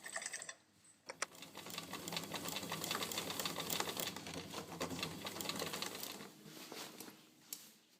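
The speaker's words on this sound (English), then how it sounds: "I'm occasionally sewing over the pins very, very carefully" A sewing machine steadily stitches a skirt's gathered waistband, running over pins, in one continuous run of about five seconds, close and moderately quiet, preceded and followed by brief handling clicks.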